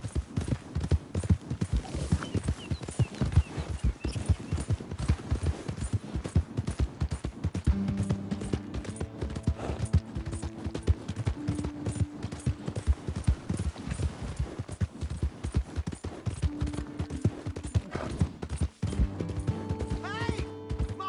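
In Red Dead Redemption 2, horse hooves clip-clop in a steady, continuous rhythm with game music and faint voices underneath throughout.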